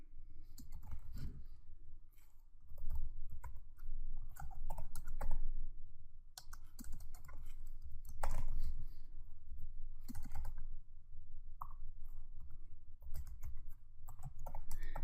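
Fingers type on a computer keyboard at close range, uneven bursts of crisp key clicks separated by short pauses, with no talking.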